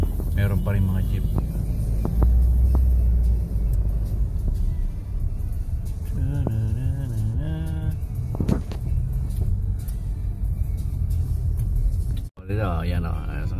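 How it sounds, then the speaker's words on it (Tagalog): Manila street traffic with jeepneys near Quiapo, a steady low engine rumble and passing vehicles with wind buffeting, while people talk over it throughout. "Meron pa rin mga jeep."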